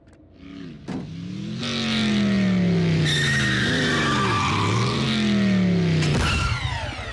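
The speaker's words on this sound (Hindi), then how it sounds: "क्या रफ्तार थी आरसी, 120 पर तो यूं पहुंच गई" A cartoon car from Transformers Prime roars up to speed, its engine pitch rising and dipping through gear changes before tires squeal in a long skid, loud and close with no talk.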